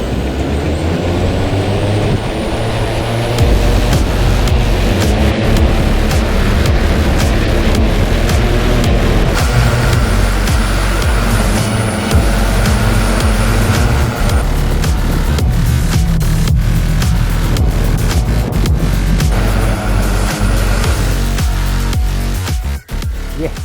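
A homemade eVTOL flying car with 16 propellers, tethered by a rope, spins up to a loud, steady, multi-toned electric whine and roar that holds without letup for over twenty seconds.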